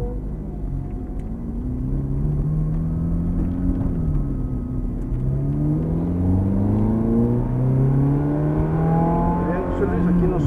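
An exotic sports car's engine rises in pitch through repeated gear pulls while accelerating on a track near Cancun, a loud steady rumble heard from inside the car.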